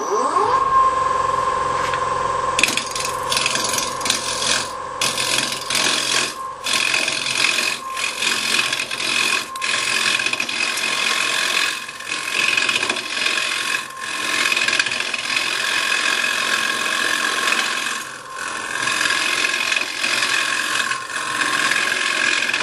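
Wood lathe with an Easy Rougher carbide tool cutting red keyaki (Chinese elm), a steady close scraping, chattering roar of the cut with a lathe hum underneath, the rasping rising and dipping with brief pauses as the tool moves along.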